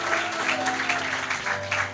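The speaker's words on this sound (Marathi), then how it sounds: "जोरात टाळ्या वाजवतात येशूसाठी." A church congregation claps loudly during a live service, a steady rhythmic beat of many hands roughly every quarter second, with sustained music or voice underneath.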